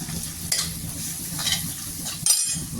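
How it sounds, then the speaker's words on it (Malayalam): Onions with turmeric powder sauté in a pan while a spoon stirs them, a steady close sizzle broken by a few sharp scraping strokes against the metal. "ഉള്ളി നല്ലോണം നമ്മൾ മഞ്ഞപ്പൊടി ഇട്ട് കൊടുത്തേ ഇട്ടതൊന്ന് ഇളക്കണം"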